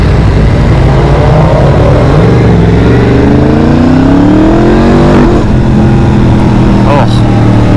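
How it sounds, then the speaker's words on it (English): A loud cross-plane motorcycle engine revs and climbs in pitch on an alpine mountain road in France, then drops and rises again, with a voice talking over the roar. "mountains sound awesome, especially with a cross-plane engine"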